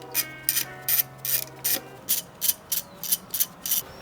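A ratchet wrench clicks in quick bursts while 8mm bolts come off the ignition coils of a Volvo, about ten evenly spaced ratcheting pulses, close and clear.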